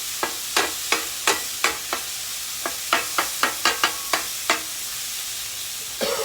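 Hamburger meat frying in grease at the side of a pan, a steady sizzle broken by a quick run of regular scraping stir strokes that pause near the end, with no talking.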